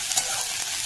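Cauliflower with grated ginger and a green chili fries in a pan, giving a brief, bright, steady sizzle with a faint stir.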